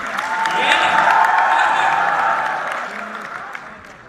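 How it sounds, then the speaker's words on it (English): An audience at the FiLUMS 2018 event at LUMS breaks into a round of applause, a broad clapping wash that swells and then tapers off, with a voice talking over it. "Huge round of applause for Eva, please."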